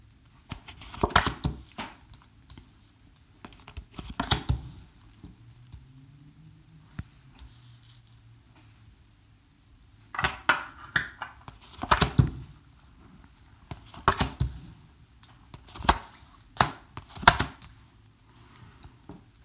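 Tarot cards being shuffled and laid out, a series of close, soft slaps and flicks in uneven bursts with quiet gaps between, and no talk.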